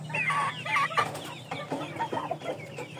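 Indio Gigante hens and a rooster clucking close by, a quick run of short, uneven clucks and squawks over a few seconds, with no voices.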